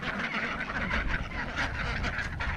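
Several ducks quack repeatedly in a busy, overlapping cluster, fairly close and moderately loud, with no talking.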